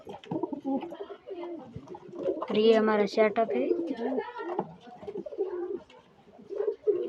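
Pigeons coo softly in short throaty bursts while someone talks over them nearby.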